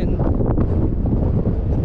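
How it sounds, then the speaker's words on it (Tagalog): Strong wind on a mountain near Jeddah, Saudi Arabia, rumbles against the microphone in a loud, continuous low roar that holds steady throughout. "simoy ng hangin"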